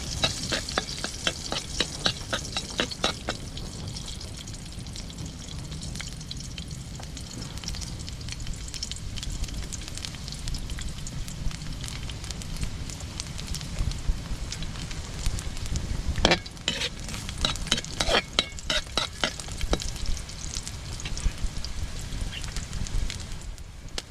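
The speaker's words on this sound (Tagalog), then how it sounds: "Gigisahin po natin. Bawang po." Garlic sautéing in a pan, a continuous crackling sizzle with bursts of stirring and scraping, close and fairly quiet, with no talking.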